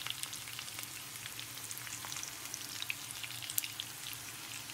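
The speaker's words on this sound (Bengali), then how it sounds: "পটেটো তো ফ্রাই করে নিচ্ছি প্রত্যেকটা" Potatoes fry in hot oil with a dense, steady crackling sizzle that stays even throughout, heard close up and without any voices.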